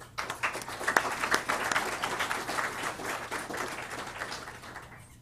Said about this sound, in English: Let's give Rachel a round of applause.